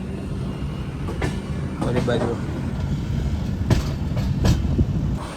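A train without an engine rolls past beside a station platform, a steady rumbling clatter of wagons with occasional sharp clanks, while people talk nearby.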